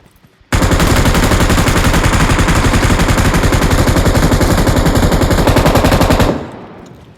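Sustained automatic gunfire in the video game Redzone: a loud, unbroken rapid burst of shots lasting nearly six seconds, starting suddenly and cutting off to a faint echo.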